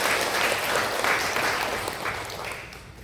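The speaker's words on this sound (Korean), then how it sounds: "우리 다시 한번 박수로 하나님께 영광 돌립니다." A church congregation applauds during a Palm Sunday service, a dense, steady wash of clapping from many hands that slowly fades over a few seconds.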